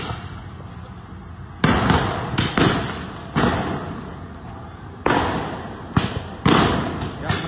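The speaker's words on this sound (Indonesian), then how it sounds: "menembakkan gas air mata." Police launch tear gas canisters under the Slipi flyover during a clash with a crowd throwing molotovs and firecrackers, giving several loud, sharp booming thumps spaced a second or so apart, with people talking in the background.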